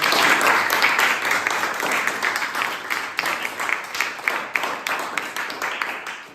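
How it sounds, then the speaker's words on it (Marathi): Schoolchildren in a classroom applauding themselves, loud rapid clapping from a group that pulses rhythmically and gradually tapers off, with a few voices mixed in. "सर्वांनी आपापल्यासाठी टाळ्या वाजवा बरं"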